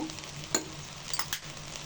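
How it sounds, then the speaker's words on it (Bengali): Chopped onion and pepper are stirred into chicken fried rice frying in a pan, making a faint, steady sizzle broken by a couple of quick spatula scrapes over less than two seconds, with no speech. "পেঁয়াজ কুচি, গোলমরিচের গুঁড়া দিব হাফ চামচ, দিয়ে ভালো করে মিশিয়ে নিব।"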